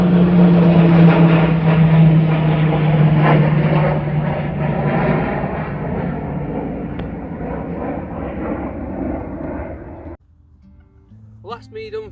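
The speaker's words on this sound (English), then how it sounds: "Oh, we've got another flyby." A propeller aircraft passes overhead on an English hillside, a loud droning hum that slowly fades over about ten seconds before cutting off, with a voice speaking at the end.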